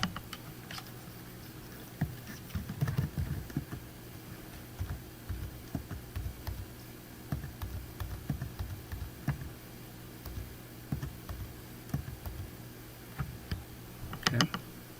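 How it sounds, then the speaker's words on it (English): Typing on a computer keyboard while filling in a registration form, with irregular bursts of soft, close key clicks separated by short pauses, quiet overall. "So let's type some information."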